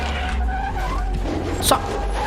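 A car in a video game driving with its engine droning steadily, building to a short tire squeal and skid near the end.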